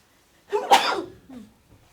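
A single sharp sneeze up close, followed by a brief breathy exhale, in an otherwise quiet room.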